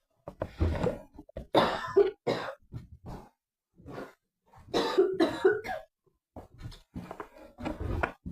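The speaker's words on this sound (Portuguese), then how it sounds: "Estou aqui com tosse." A person coughs repeatedly in harsh, irregular bursts with short pauses between, close up and fairly loud.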